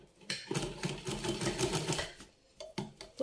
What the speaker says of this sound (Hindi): दो तीन बार इसको मजबूती से सिलाई कर देंगे।